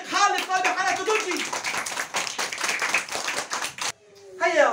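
A children's class at Al-Bashir institute claps for a young student after she writes a letter, with dense rapid hand claps mixed with excited children's voices and shouts, ending in a brief pause before talk resumes.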